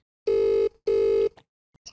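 Two long ringback tones on an outgoing phone call, each lasting about half a second with a short gap between, loud and steady, followed by brief faint clicks.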